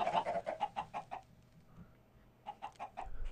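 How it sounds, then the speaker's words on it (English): Chickens in the TerraFirmaCraft game cluck in quick runs of short notes, a burst at the start, then a pause, then another volley, fairly faint and with no talk. "I am so tired of looking at these chickens"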